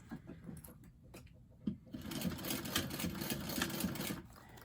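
Sewing machine stitching through bag fabric, running in a steady rapid mechanical rhythm for several seconds after a few brief starts, fairly close and moderately loud with no talking.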